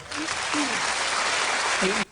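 Steady applause from a TV studio audience fills the clip, with a few brief vocal tones over it before it cuts off abruptly.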